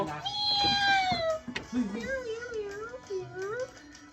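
A cat meows loudly nearby, with one long drawn-out cry followed by shorter wavering mews, while people talk softly in the background.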